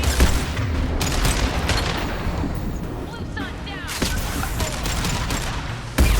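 Heavy weapon fire and repeated blasts in the Mass Effect 2 sci-fi shooter, sharp broadband bursts rolling through steady combat noise, with louder hits near the start and end and a brief lull midway.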